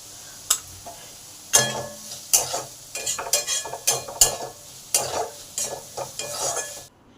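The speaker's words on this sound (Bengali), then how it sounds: "পেঁয়াজটাকে ভালো করে ভেজে নেব" Onions frying in a pan for Bengali pancharatna dal, salted, with a steady sizzle under repeated close scraping strokes of a spoon stirring them, loud and alone without speech.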